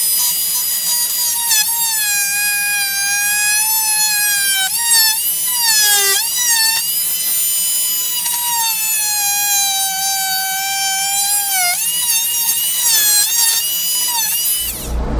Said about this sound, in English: I'm going to trim them out with the same multi-tool